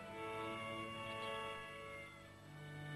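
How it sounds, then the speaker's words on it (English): An orange cat meows in a drawn-out, wavering, tonal call that carries on for the whole stretch at moderate loudness, with no talk. "An orange cat."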